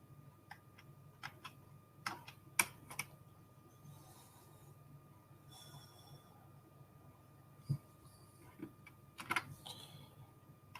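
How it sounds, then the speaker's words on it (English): Sparse, irregular clicks of keys being pressed on a keyboard, quiet and close, with long pauses between single taps and short bursts and no voices. "I really can't believe I'm typing this."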